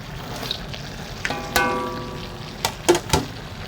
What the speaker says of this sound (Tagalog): Lagay ko yung aking gulay. Lagay ko na yun lahat para sabay-sabay na silang maluto.